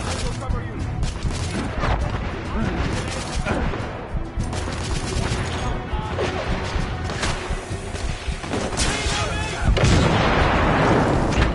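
Gunfire and a grenade explosion in the video game The Order 1886 form dense, continuous combat noise with repeated shots and impacts and a heavier blast near the end, with voices mixed in.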